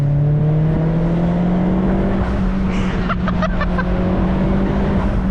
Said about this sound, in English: The blow-off noise is just everything.